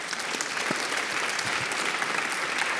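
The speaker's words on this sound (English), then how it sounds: "Please, let's give our panelists a round of applause." Audience applause for panelists after a virtual reality discussion at a conference, a steady, dense clapping from a hall full of people that holds evenly from start to end.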